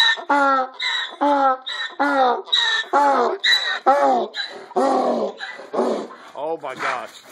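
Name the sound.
dogs barking and growling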